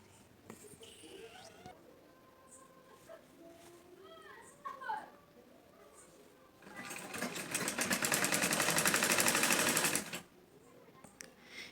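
A sewing machine stitches a sleeve onto a Madhubala-style blouse, running in one steady, close burst of rapid stitching for a few seconds after quiet handling sounds and someone talking.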